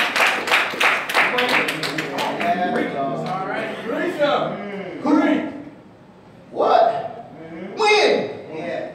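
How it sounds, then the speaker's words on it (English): A church congregation claps hands in quick rhythmic bursts at the start, then the clapping gives way to talking voices and a few scattered sounds. "Clap your hands and give God praise."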